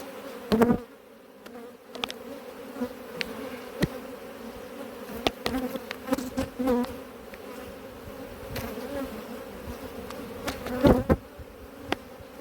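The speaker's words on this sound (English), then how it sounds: "Angsty bees." A steady, dense drone of many agitated honeybees buzzing close by in a hive at an apiary, with occasional louder individual bees zipping past.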